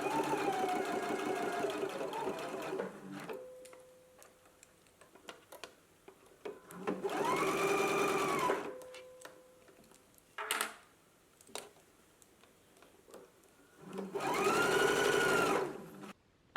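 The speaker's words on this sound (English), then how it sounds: "we can go ahead and stitch at a 5/8 of an inch seam allowance" A sewing machine stitches a 5/8 inch sleeve seam, running in three separate bursts of about two to three seconds each, with a rapid mechanical whir and quiet handling in between.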